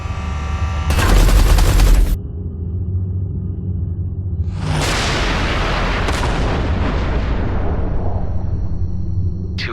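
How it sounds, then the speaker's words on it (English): Artillery fire in the space-combat game Everspace 2 during a final mission: a loud blast opens, then after a pause a second heavy explosive burst rolls into a long, sustained rumbling roar over steady engine hum. "Watch out! The artillery!"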